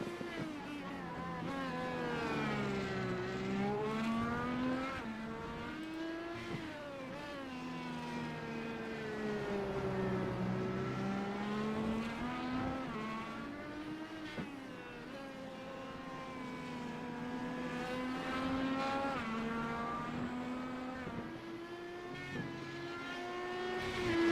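An IndyCar race car engine in the iRacing video game on the Hungaroring circuit, a continuous high engine whine rising and falling through gear changes and corners, steady and moderately loud with no speech.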